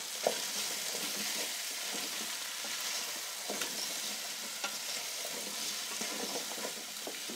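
Thinly sliced potatoes and cauliflower sizzle steadily as they are tossed in an open pan, with a constant hiss broken by occasional light clinks and scrapes.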